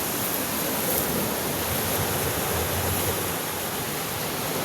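Powerful current of water rushing hard at Libungan, a dense, steady roar that fills the whole stretch, loud and close, with no voices over it.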